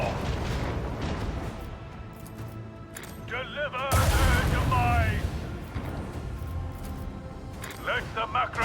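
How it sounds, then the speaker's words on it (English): Macro cannons firing in the Warhammer 40k Rogue Trader video game, a heavy boom erupting midway with rumbling low impacts, alongside a spoken line and game effects. "I want to hear the macro cannons roar."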